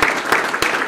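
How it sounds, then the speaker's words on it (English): Audience applause at a Sarasota police swearing-in ceremony, a broad burst of clapping filling the short moment, steady and fairly loud with no voices over it. "So let's give them a round of applause for being here."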